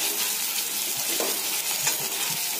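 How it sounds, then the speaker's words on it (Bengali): Chopped onion browning in a pan for a Bengali chicken curry sizzles steadily and close, with a few faint stirring knocks and no one talking. "তো আমাদের পেঁয়াজটা লাল লাল করে ভাজা হয়ে গেছে"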